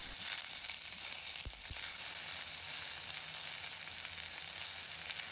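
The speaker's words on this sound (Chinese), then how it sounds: "把蒜白和洋葱放入锅中，把它简单的煸炒一下" Garlic whites and onion stir-fry in a little oil in a hot clay pot, giving a steady, close, bright sizzle with a couple of soft low knocks midway and no voices.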